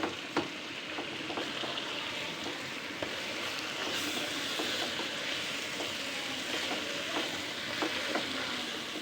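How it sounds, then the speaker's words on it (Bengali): Green chilies and ginger-garlic paste fry in hot oil for vegetable pulao, a steady close sizzle with scattered crackles and faint stirring scrapes, no voices. "কাঁচামরিচ দিয়ে দিব, আদা রসুনের পেস্ট দিয়ে দিব, এখন আমি এটাকে একটু ভাজবো"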